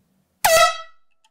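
A single loud air horn blast, sharp and bright, cutting off quickly with a short fading tail, alone with no voices.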